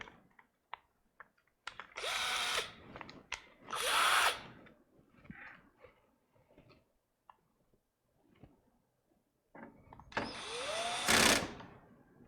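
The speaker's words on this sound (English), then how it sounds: "Probably don't want that on a clutch setting of 13 unless I want to drill through the countertop." A power drill with an adjustable clutch whirs in several short bursts, two close together early on and a longer one near the end, with small clicks and handling taps between, no talk.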